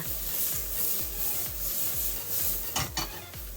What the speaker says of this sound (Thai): ก็เราก็จะผัดเห็ดทั้งหมดนะคะ